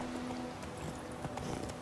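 A horse in The Witcher 3 trots with soft, fairly faint clip-clop hoofbeats under a low steady hum, with no voices.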